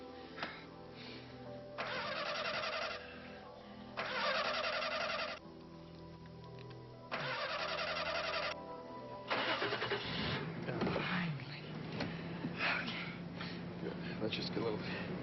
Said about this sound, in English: Why don't you try the car engine again?